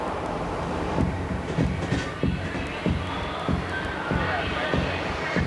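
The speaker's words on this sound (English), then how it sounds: "the train's leaving first" A New York subway train departing, rumbling along with steady rhythmic clacks of the wheels on the rails, loud and continuous, with a faint squeal now and then.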